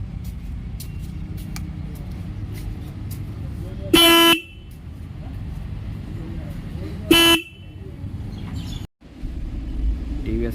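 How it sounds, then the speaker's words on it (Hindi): A TVS Ronin 225cc motorcycle's single horn gives two short, loud honks a few seconds apart over a rumbling background, with people talking nearby. "इस रॉनिन में सिंगल हॉर्न मिलता है,"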